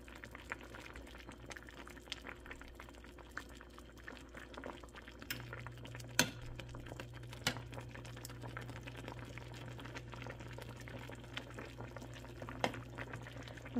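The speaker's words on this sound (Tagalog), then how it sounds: "Tapos pakuluin natin ng mabuti." Fish soup bubbles steadily in a pot, a soft continuous simmer with occasional pops and light clinks, fairly quiet and close.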